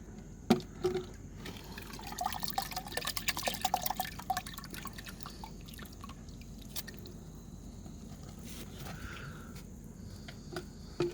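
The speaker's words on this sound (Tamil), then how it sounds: "இப்போ இந்த ஃபர்மெண்டட் ஃபர்டிலைசரை நல்லா வடிகட்டிடுங்க." Fermented liquid plant fertilizer is strained, giving wet dripping, trickling and squishy splashes close by, busiest in the first few seconds and then easing into a quieter steady trickle.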